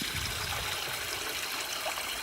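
A clear stream flowing through a snowy creek lined with icicles, a steady close rushing and trickling of water with no breaks, heard alone without voices.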